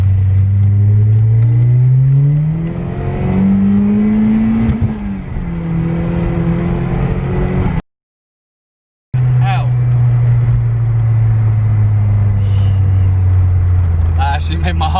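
A Series One Ford Escort RS Turbo with 230 bhp pulls hard in second gear on high boost, its engine note rising steadily, cutting out briefly, then droning on loud and close from inside the car.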